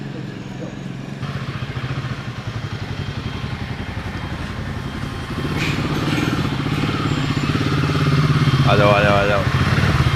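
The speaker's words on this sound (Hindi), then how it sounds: "देखो वो जो बाइक आ रही है" A Honda NX 500 motorcycle rumbles closer, its steady engine note growing louder midway as it pulls up, while a man calls out over it.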